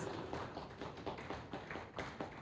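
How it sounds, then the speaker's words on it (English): A seminar workshop audience claps for a guest lecturer, producing soft, steady pattering applause with scattered sharper claps throughout. It stays fairly quiet and distant. "A round of applause, please."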